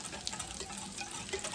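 Cold water runs from a kitchen tap during home breakfast cooking, a steady soft hiss and splash that is moderately quiet and continuous, with no talking.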